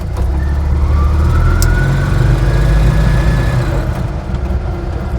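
An Invacar engine drones steadily at close range while the car drives around a right-hand turn, a continuous loud mechanical hum with a faint rising whine, and no talking.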